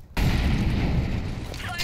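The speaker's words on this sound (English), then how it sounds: "Throwing incendiary" An incendiary grenade going off in Counter-Strike 2, a sudden loud burst that settles into a roaring, crackling fire lasting close to two seconds, with a voice nearby.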